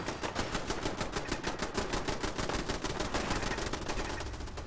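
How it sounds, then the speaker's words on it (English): Rapid, sustained automatic gunfire from gunners in Fallout 4 rattles on without pause, loud and dense for the whole stretch. "Got shooting, shooting, shooting. Good job, gunners."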